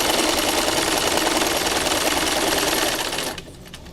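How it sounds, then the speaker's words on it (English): A sewing machine stitches forward in a steady, dense run that stops abruptly near the end, leaving quiet room sound. "I am going to stitch forward this time"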